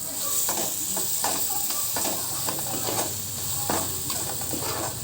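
Ginger garlic paste with cumin is stirred in a hot pan, producing a steady sizzle and hiss with repeated scraping strokes of a spoon, heard up close.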